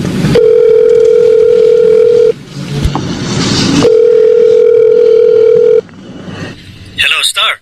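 Phone ringback tone from a cellphone call, two long steady tone bursts with a pause between, loud and alone, ending as a voice answers.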